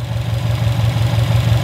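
A Subaru STI engine running close up with a steady idle and a faint knocky clatter in its rhythm, loud and alone for a short stretch.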